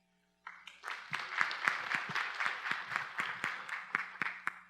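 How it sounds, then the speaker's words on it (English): An audience breaks into applause at a constitutional debate event, a dense wash of clapping that swells quickly and holds steady, with sharper individual claps punctuating it throughout. "You can all clap for that if you wish."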